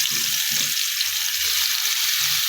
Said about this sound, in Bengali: তো মাছগুলো এর মধ্যে দিয়ে ভেজে নিব